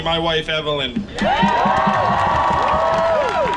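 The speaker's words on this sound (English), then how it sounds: "let's give another round of applause to my soulmate" Crowd at a Stop Asian Hate gathering breaks into cheering and applause after someone speaks briefly, a loud wash of clapping with whoops and shouts carrying on to the end.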